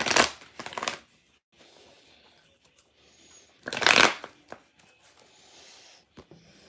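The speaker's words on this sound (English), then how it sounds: "Let me just shuffle these a little bit." A deck of tarot cards shuffled in two quick riffling bursts, crisp and close, separated by a quiet pause filled with faint handling taps and rustles.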